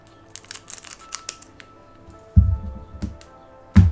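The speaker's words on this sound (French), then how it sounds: "Bon, vas-y, ciseaux." Scissors snip open a One Piece card game booster pack (OP11 display), with two loud, close cuts in the second half following a stretch of light crinkling and handling of the foil wrapper.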